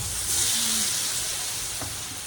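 Sliced potatoes and vegetables sizzle in very hot oil, a brief, dense, steady hiss close up with no speech.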